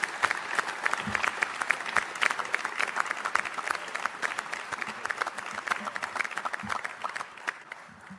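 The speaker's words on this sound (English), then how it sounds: "Let's give these youngsters a round of applause" An audience at a Detroit Pistons press event claps continuously, a dense steady applause of many hands throughout, moderately loud and fairly close.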